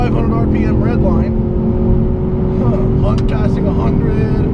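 A 2015 Ford Mustang EcoBoost engine revs hard toward its 6,500 RPM redline on a race track, a loud, steady, rising drone that fills the cabin while a driver talks over it.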